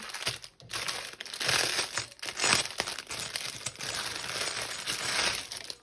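A crinkly plastic package of tulle ribbon from an online order is handled up close, with continuous rustling and crackling plus a few short pauses, and no voice.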